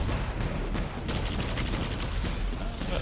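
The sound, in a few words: weapon gunfire in video game Destiny 2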